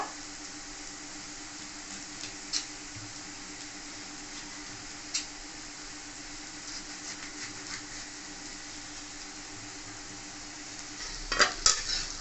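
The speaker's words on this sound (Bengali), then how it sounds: "ছোলা এখানে ভালো মতন ভাজা হয়ে গেছে" A steady frying hiss of chickpeas fills the pan, broken by occasional scrapes and clatters of stirring, with a louder clanking flurry near the end.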